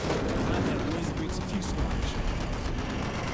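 Battle din from the Call of Duty Black Ops 1 campaign: loud, continuous rumbling blasts and gunfire fill the whole stretch without a break.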